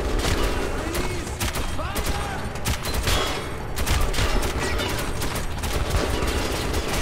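Enemy gunfire in the Metro 2033 Redux video game, dense crackling bursts and fusillades rattling continuously and loudly throughout, with scattered booms mixed into the fighting.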